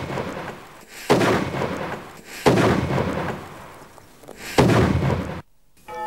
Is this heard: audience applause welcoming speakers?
no